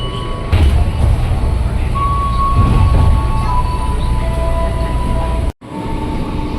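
KRL commuter train pulling into Cakung station, a loud continuous rumble with faint squealing tones from the wheels and brakes, ending in a brief sharp cutoff and a quieter hum.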